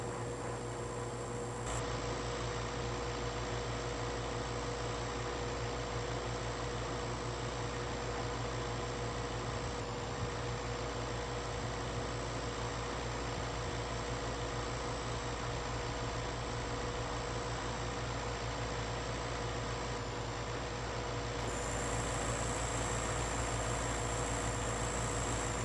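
A 6300 tractor in a farming video game pulls steadily across a large field. Its engine is a constant, even drone that holds at the same level from start to finish, with no voices.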